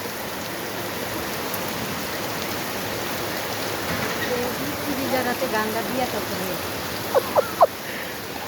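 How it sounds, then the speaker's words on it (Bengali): Heavy rain pours steadily into a shop, a dense continuous hiss of water, with a few faint knocks and patters near the end. "দেখেন আমাদের দোকানের ভিতরে বৃষ্টি আইসা পড়ে, ছাইগুলা সরাইলে প্রচণ্ড বৃষ্টি হচ্ছে"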